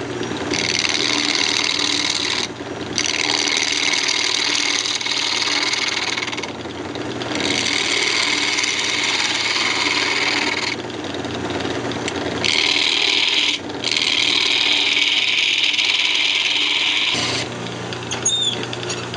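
A wood lathe spins a small redwood ornament blank glued to a waste block while a tool trues it up, giving a steady scraping, rubbing whir under the motor hum that breaks off briefly several times between cuts.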